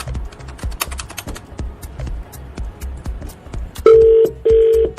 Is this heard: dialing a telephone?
yes